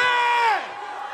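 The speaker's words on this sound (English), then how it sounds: "Let's give a big one more round of applause for my man KSI" A loud crowd at a KSI vs Logan Paul press conference cheers and whoops with excitement, the roar trailing off after about half a second into lingering chatter.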